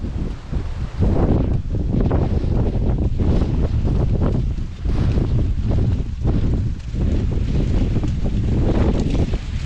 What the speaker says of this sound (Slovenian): Piha pa piha, za jadrat pa je.